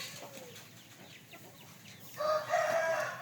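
An Aseel rooster on a farm crows once, loud and close, rising near the end after a stretch of quieter background with faint bird calls.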